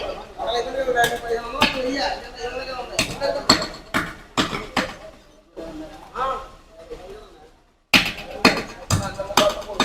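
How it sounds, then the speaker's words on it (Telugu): At a fish market in Palakollu, fish are being cut with heavy, sharp chops that land in irregular bursts close by, while people talk nearby through most of it. "ఇప్పుడైతే కటింగ్ ప్రాసెస్ అయితే జరుగుతుందండి"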